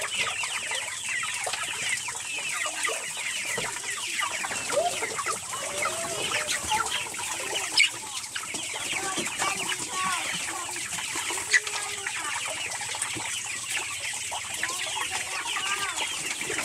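Free-range pastured chickens cluck steadily outdoors, a flock of mixed hen calls near and far with occasional louder squawks, continuous over the whole stretch with no talking.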